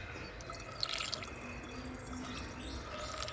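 Battery acid trickles into a solar battery during maintenance. Faint, close dripping and light liquid splashes sound over a low background hum.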